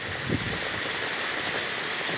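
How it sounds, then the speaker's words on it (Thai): Evening rain falling steadily on surfaces outdoors, a close, continuous hiss of drops with one brief low knock early on and no speech. "เป็นบรรยากาศนะครับฝนตกเย็นๆนะครับผม"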